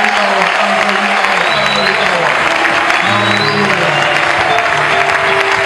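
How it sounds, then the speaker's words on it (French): Church congregation applauding and acclaiming Jesus, loud sustained clapping mixed with voices shouting and singing praise throughout. "je voudrais que tu puisses acclamer la présence de Jésus"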